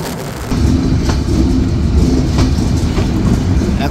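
Dhumketu Express leaving Tangail railway station: a steady heavy rumble of rolling wagons with rhythmic clickety-clack wheel beats, close and loud throughout.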